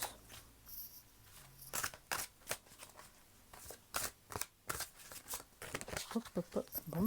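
A deck of cards being shuffled for a card reading, with repeated crisp riffling bursts in quick succession close by, growing denser toward the end, over a quiet room.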